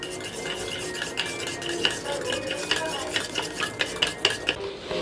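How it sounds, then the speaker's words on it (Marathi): A spoon beats omelette batter in a bowl at home, producing rapid, rhythmic metallic clinks and scraping, close and fairly loud, without any speech. "चम्मच घेऊन मस्त असं मिक्स करायचं"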